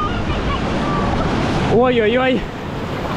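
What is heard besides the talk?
ocean waves breaking at a surf beach in Sri Lanka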